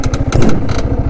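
A motorcycle engine runs close by on a beach near the sea, giving a loud, rapid, chugging pulse throughout the brief moment.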